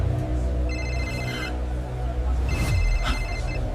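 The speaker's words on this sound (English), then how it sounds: "Everyone's phone is ringing." Several phones ring electronically in two bursts of repeating high tones, one around the first second and another near the end, with voices and background noise underneath.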